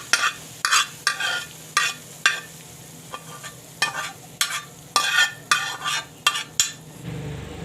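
Green chevdo mixture stirred in a pan with the gas turned off, a spoon scraping and clinking against the metal in repeated rhythmic strokes, close and fairly loud, with a faint sizzle between strokes.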